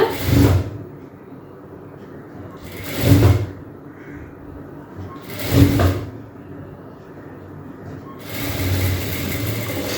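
A sewing machine stitches an umbrella frock in short runs, with about four loud mechanical bursts separated by quieter pauses and a longer burst at the end, close by.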